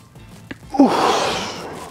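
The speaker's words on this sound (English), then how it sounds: "breathing out on the way up" A single forceful exhale during a hanging knee raise exercise: a short sharp breath followed by a longer breathy sigh at close range, with no talking.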